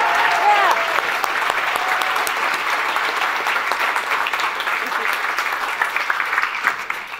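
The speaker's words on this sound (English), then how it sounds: "Give them a round of applause." A crowd at a tenth-anniversary gala claps warmly for the co-founders, sustained dense applause that carries on steadily with a few voices briefly audible near the start.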